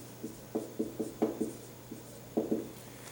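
A pen or pencil writes on paper in short scratchy strokes, a handful of quick marks in two bursts, close and quiet over a low steady hum with no talking.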